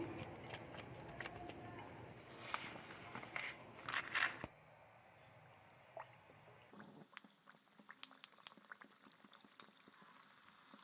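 Ariselu, sesame-coated sweet dough rounds, fry in hot oil with a faint, steady bubbling sizzle and scattered small crackles, quiet and close.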